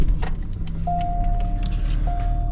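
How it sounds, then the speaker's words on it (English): A Chevy HHR or Cobalt with a drivability fault starts up nearby: a whirring starter, then a rising engine note with a thin, steady whine continuing after it catches. "Let's start the car up."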